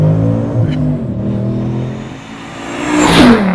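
A 2012 Mustang GT, built to Stage 4 with over 650 horsepower, roars loudly and steadily through a second-gear rolling burnout at about 50 mph, its engine note climbing toward the end.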